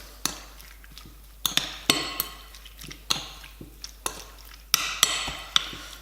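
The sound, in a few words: mixing chicken with baking soda and pepper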